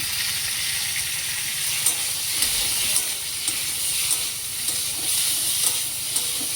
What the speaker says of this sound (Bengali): ভাজা হয়ে গিয়েছে, এবার একটু হলুদ দিলাম